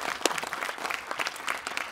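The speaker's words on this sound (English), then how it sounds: "Give yourselves a round of applause." An audience in an IMAX theater at a film Q&A applauds, dense loud clapping with a few sharp individual claps standing out, sustained throughout.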